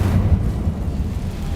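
An Incendio fire spell goes off in Hogwarts Legacy as a loud, deep whooshing burst of flame that rumbles at the start and then fades into a low roar, with no talking.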